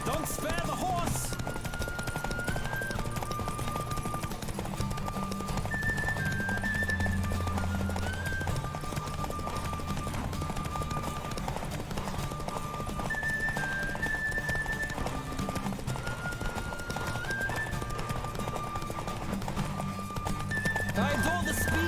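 A horse gallops in The Witcher 3, steady rhythmic clip-clop hoofbeats continuing throughout under game music and occasional character voices.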